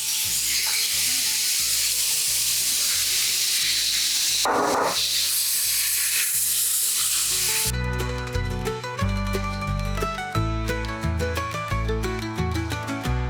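Meat seasoned with a pinch of salt and black pepper browns in a pan with a steady sizzle and hiss under background music, and the music takes over for the second half.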